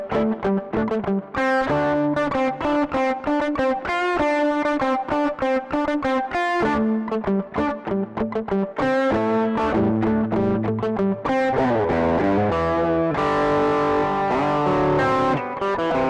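Electric guitar on its bridge pickup through a Henriksen Bud portable amp with light overdrive, a busy run of picked notes and chords, close, clear and continuous with no talk.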